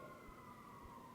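Emergency vehicle siren heard outdoors in the distance, a faint steady wail drifting slightly in pitch for about a second, quiet and alone.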